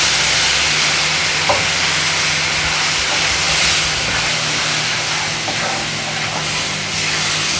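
Hot sugar syrup poured gradually into cooking wheat halwa rich with ghee gives a loud, continuous, close hissing sizzle that holds steady throughout.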